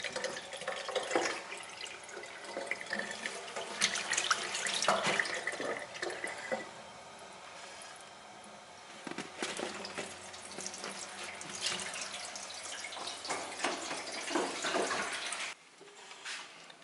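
Water runs from a tap over the valve of a brand-new bike inner tube being checked for a leak, a steady close splashing and trickling stream with brief drops in level, no talking.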